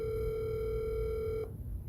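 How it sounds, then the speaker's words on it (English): An apartment building intercom rings out with a steady electronic tone for about a second and a half, then stops abruptly, leaving background street noise. "It's just ringing."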